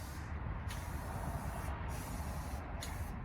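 Spray gun laying light coats of paint on the floor pans of a 1989 Ford Mustang project car, with several short hissing bursts that stop and start over a steady background hum.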